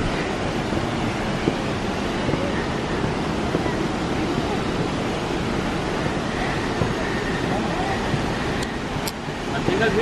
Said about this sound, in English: We actually can hear the water.